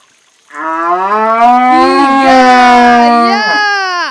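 At Gundaling Farm, a cow in labour delivering a calf lets out one long, loud, strained moo lasting over three seconds, close by, wavering in pitch and ending with a higher cry-like rise.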